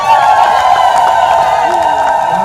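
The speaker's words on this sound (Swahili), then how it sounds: "makofi na vigelegele." Applause and ululation rise from a crowd at the blessing of the Kanisa Kuu cathedral construction site by Archbishop Jude Thaddaeus Ruwa'ichi, a steady shrill trilling carrying over dense clapping throughout.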